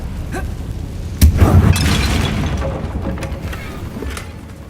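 Confringo fire blast spell cast in Hogwarts Legacy: a single sharp crack followed by a booming, crackling burst that lingers and fades over a low game ambience, with faint smaller pops afterward.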